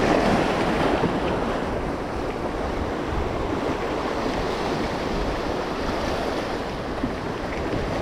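Strong sea waves surging at the shore, a loud continuous roar of surf with wind buffeting the microphone, no voices heard.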